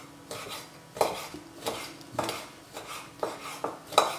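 A knife slices dried chili pepper into thin strips on a board, producing about a dozen light, irregular taps and clicks, quiet and close with no talking.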